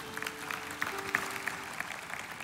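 A church congregation applauds faintly and at a distance with a soft, continuous wash of clapping, a low hum running beneath it.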